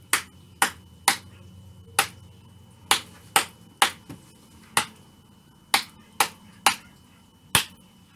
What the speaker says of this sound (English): my second pattern I did 3 claps and 1 clap